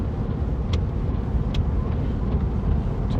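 Steady broadband road noise from a Chevrolet Corvette C7 driven in the rain, a continuous low engine-and-tire rumble with a few faint higher clicks, recorded from inside the car with no talking.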